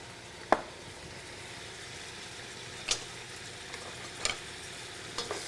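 Minced garlic, three cloves, stirred in a pan while cooking coq au vin, giving a soft steady sizzle with a few sharp scrapes of the spoon spaced several seconds apart, no talking.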